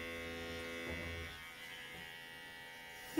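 Battery-powered electric clipper trimming a dog's fur, a steady buzzing hum that runs throughout at close range with slight shifts in pitch and no talk over it.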